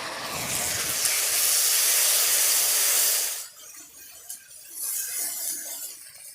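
Mustard paste with green chilli and salt hits hot oil and spices in a pan while cooking bata fish, giving a loud sustained hiss for about three seconds before dropping to quieter sizzling and stirring.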